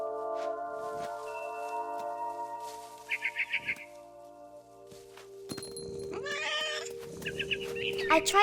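A cat meows in the video game What Remains of Edith Finch, short quiet calls over a soft steady game soundscape with hums and light thumps, then a longer, louder run of meows near the end.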